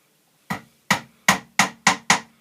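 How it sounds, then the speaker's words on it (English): A hammer drives a big nail in with six sharp, evenly spaced bangs, loud and close with no talking. "You're ready to go, bang the nail in."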